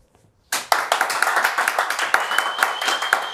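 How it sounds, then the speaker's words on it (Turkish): An audience at a rap show breaks into applause after a moment of near silence, with many hands clapping in a busy, uneven patter that stays fairly loud to the end. "Bir tık az alkış fark ettin"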